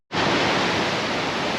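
An Ozark waterfall roars as a dense, steady broadband rush that starts abruptly and stays loud and close throughout, with no voices.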